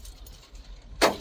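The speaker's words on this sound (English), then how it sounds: "Let's see if I can grab my keys for an example." A large bunch of keys on a keyring jangles in one sudden bright burst near the end, after a stretch of low room hum.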